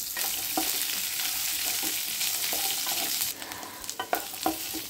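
Chopped onion sizzling in hot oil in a pan, a continuous close, crackling hiss with occasional stirring scrapes.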